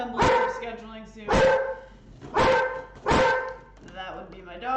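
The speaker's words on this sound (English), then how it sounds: "That would be my dog." A dog barks four times in a steady rhythm, fairly close indoors in a home kitchen, with no talking over it.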